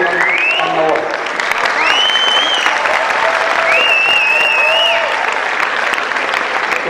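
A crowd at a university student event applauds steadily, dense continuous clapping filling the room, with voices and cheering calls rising over it at moments.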